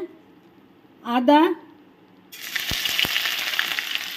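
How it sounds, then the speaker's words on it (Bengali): Whole cardamom pods dropped into hot white cooking oil for basanti pulao: after a brief voice and a pause, a close, loud sizzle starts suddenly with a couple of sharp pops, then settles into an even crackling fry. "সাদা তেল দিয়ে দিয়েছি, গরম হয়ে গেছে। তো এখন এলাচ দিয়ে দিলাম, গোটা এলাচ।"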